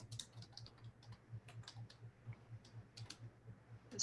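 Quiet, irregular clicking of keys on a computer keyboard, close and soft, with short bursts and pauses and no voices.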